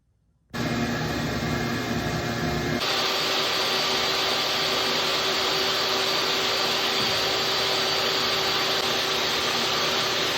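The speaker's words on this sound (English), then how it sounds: "Vacuum's hooked up." A shop vacuum hooked to woodworking tools switches on abruptly and runs at a loud, constant roar, its pitch shifting slightly a few seconds in, with no talking.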